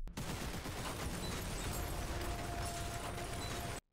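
Gunfire from the anime Cyberpunk: Edgerunners, a dense, loud burst of rapid shots and mechanical clatter that runs continuously before cutting off abruptly.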